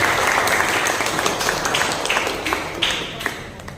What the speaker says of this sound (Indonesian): beri tepuk tangan yang meriah untuk Ibu Hemista Nino ST